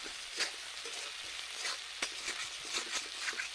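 Chopped onion and tomato frying in a pan for a Bengali rui fish curry, a soft continuous sizzle broken by several scraping stir strokes at irregular intervals, close and moderately quiet.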